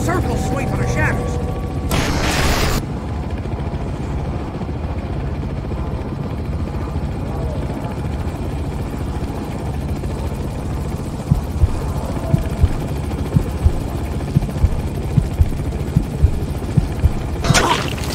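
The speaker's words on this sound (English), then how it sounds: "The chopper will do a circle sweep of the shadows." Helicopter in the Manhunt 2 video game sweeping in a circle, a steady low rotor drone filling the scene with mechanical clatter and sharp ticks toward the end, under the game's score.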